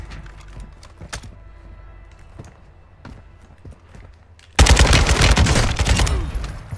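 RPK light machine gun firing in Warzone 2, heard after a stretch of quieter footsteps and scattered clicks. A sudden loud, continuous burst of rapid automatic fire lasts about two seconds, close and harsh.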